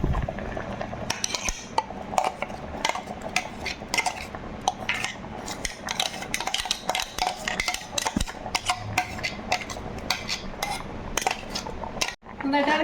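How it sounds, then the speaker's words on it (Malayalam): A spoon scrapes and clinks against a cooking pot as ground paste is stirred into mango pulissery, a busy run of close metallic knocks and rattles with no talking. "നന്നായിട്ട് ഇളക്കി കൊടുക്കണം കേട്ടോ"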